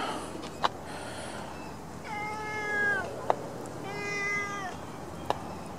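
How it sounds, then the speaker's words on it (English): A domestic cat meows twice at close range, each call a drawn-out, tonal cry, with a few sharp clicks and soft background noise between. "The cat with no name."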